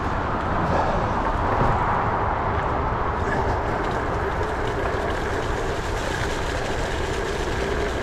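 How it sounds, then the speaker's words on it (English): Continuous, steady roar of heavy traffic on the M8 motorway heard from a bicycle crossing above it, a dense broadband wash with no breaks throughout. "I hate the noise that traffic makes."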